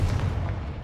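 A Confringo explosion spell cast in Hogwarts Legacy gives one short, loud, low boom with a rumbling body that fades slightly over under a second, with no speech.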